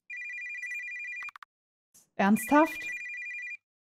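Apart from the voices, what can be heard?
phone ringing in a video game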